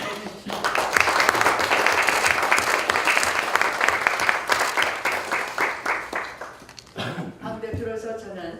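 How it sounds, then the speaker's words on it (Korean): Applause from attendees at a Democratic Party supreme council meeting, steady dense clapping for about seven seconds that then fades, with a voice starting to speak near the end. "우리 송영석 최고위원님께 건강하시라고 박수 한번 해주십시오."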